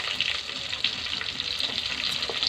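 Onions and cumin fry in hot oil with a dense, even sizzle that holds at a steady level without pause for the whole short stretch.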